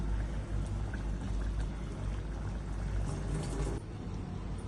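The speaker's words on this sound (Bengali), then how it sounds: "আমি এবারে গরম গরম ভাতের সাথে একটু ঝোল নিচ্ছি, পাবদা মাছের ঝোল।" Hot mustard pabda fish curry is ladled onto steaming rice, a soft continuous liquid pour that stays faint and steady throughout, with no talking.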